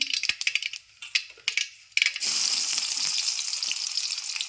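Mustard seeds crackle in hot oil as a string of sharp, scattered pops, then a sudden loud, continuous sizzle takes over and holds steady to the end.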